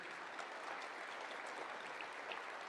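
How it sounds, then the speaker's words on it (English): Steady applause from a conference crowd at a closing ceremony, an even, continuous patter of many hands that holds without a break and stays fairly distant. "So if we could give a round of applause for them."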